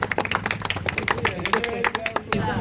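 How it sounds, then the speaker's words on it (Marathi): Crowd clapping for the boys of a Govinda troupe at a T-shirt opening celebration in Bhingaloli: dense, ragged applause with sharp hand claps, mixed with voices and cheering throughout. "एकदा सगळ्या मुलांसाठी टाळ्या"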